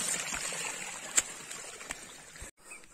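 Water flowing into a hillside irrigation pool fed from the forest, a steady close rush and trickle with a few faint knocks and clicks, no talking.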